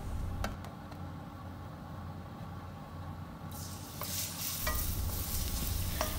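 Frozen milkfish (bangus) fries in a pan of oil, sizzling steadily with a hiss that swells louder partway through, alongside faint stirring scrapes and no voices.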